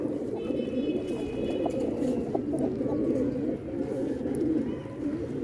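Mughal breed pigeons cooing, low throaty coos repeating steadily, close by, with someone talking now and then.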